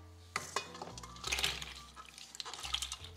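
Pasta stirred in a pot for baked ziti, soft close scraping and clinks of a utensil against the pot over a faint sizzle, with no talking.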